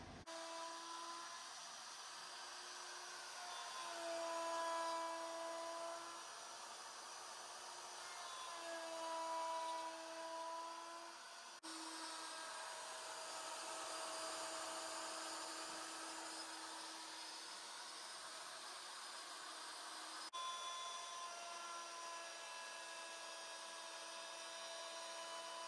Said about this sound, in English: they use a small end mill to cut the O-ring gland